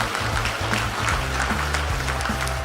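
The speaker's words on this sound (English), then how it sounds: "Please let's give him a round of applause." An audience at a 2018 securities exchange conference in Lagos, Nigeria claps in a dense, sustained round of applause, with a low hum of sound underneath.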